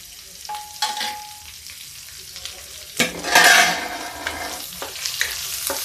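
Garlic and green chilies stir-frying in a pan, a steady close sizzle with scraping stirs and a louder burst of frying midway, no talk.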